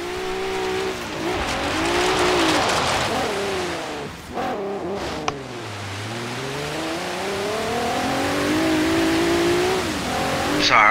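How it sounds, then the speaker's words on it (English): A loud off-road Jeep Wrangler engine in the video game Forza Horizon 3 revs and surges continuously, pitch rising and falling through several accelerations, with a brief sharp click midway. "Sorry, I'm listening to this engine"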